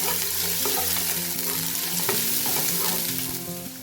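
Onion, green chilli, cardamom and ginger garlic paste sauté in a pan, giving a steady, close, continuous sizzle and crackle with no voices.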